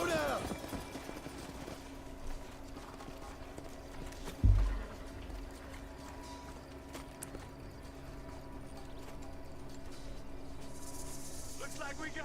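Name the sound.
horses' hooves clip-clopping, from a video game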